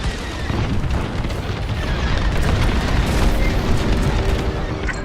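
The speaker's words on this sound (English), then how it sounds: "Detonate the core, now!" Core detonation explosion in the Star Wars Squadrons space-combat video game: a loud, sustained rumbling blast with crackling debris that rolls on for several seconds, heard alone.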